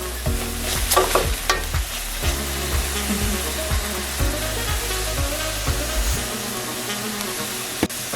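Curry leaves sizzle loudly in hot oil in a pan with chopped ginger, a dense crackling hiss under rhythmic scraping strokes of a spatula, with one sharp knock near the end.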